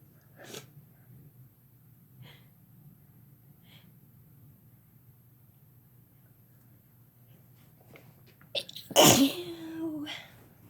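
A single sharp sneeze bursts out near the end after a quiet stretch with faint rustling and breaths, followed by a brief trailing exhale.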